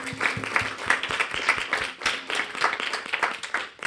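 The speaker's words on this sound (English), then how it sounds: "let's give Spencer one last round of applause" Seminar audience applauds a speaker, a smaller group clapping at close range, with individual hand claps distinct and slightly uneven in rhythm, rising and dipping in intensity.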